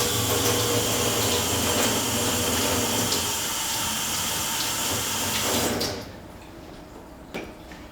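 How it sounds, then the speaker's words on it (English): Tap water runs steadily and loudly over a spring onion being rinsed at a sink, spattering for several seconds before the flow cuts off abruptly, leaving near quiet with a faint knock. "I'll just give that a quick wash."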